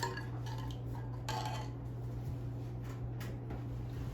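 Pork taco marinade is stirred in a bowl with clinks and scrapes of a utensil against the dish, set over a constant low mechanical hum, with no talking.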